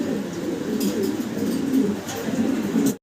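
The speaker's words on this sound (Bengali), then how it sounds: "সিঙ্গেল এক পিস মডার্না কবুতর দেখাচ্ছি।" A single male Modena pigeon coos repeatedly in soft, low, rhythmic bursts, close by, with faint background noise and no speech before the sound cuts off at the end.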